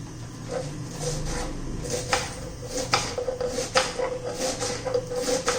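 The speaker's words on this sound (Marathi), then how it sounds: "आता ही कांद्याची पात आपण चिरून घेऊया बारीक अशी" A knife finely chopping spring onions on a board, irregular sharp taps at first that settle into quicker, repeated cuts close by, with light clatter of kitchen utensils.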